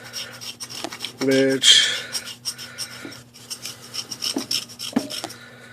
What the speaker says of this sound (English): you basically just rub like this and it produces a fine chalk powder